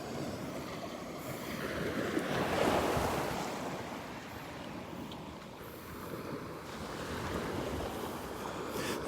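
Ocean surf washing steadily onto the beach at Delnor-Wiggins, a continuous rolling rush that swells and eases over several seconds, with some wind buffeting the microphone and no talking.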